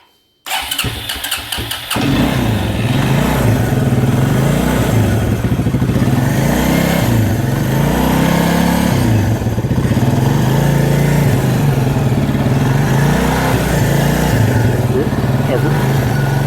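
A 1996 Suzuki Quad Runner ATV with the choke on cranks briefly, catches and fires up, then settles into a loud, steady, rapidly pulsing idle that runs on close by.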